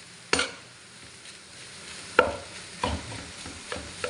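Bacon fried rice is stir-fried in a pot, with sharp scraping clanks of a utensil against the metal at irregular intervals over a low, steady sizzle of frying.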